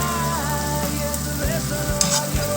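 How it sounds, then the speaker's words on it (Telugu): Onion-tomato masala frying in oil with salt, turmeric and red chili powder for paneer butter masala, a continuous close sizzle with occasional low thuds and scrapes of stirring and a faint hum beneath. "ఇప్పుడు బాగా మిక్స్ చేసేసుకొని ఆయిల్ పైకి తేలే వరకు ఫ్రై చేసుకోవాలి"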